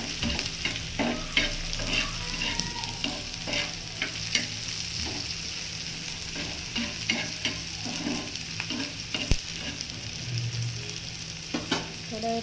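Onion frying in a pan makes a continuous crackling sizzle, broken by repeated scraping and clinking stirs of a spatula at an irregular pace, with a faint low hum beneath and no talk.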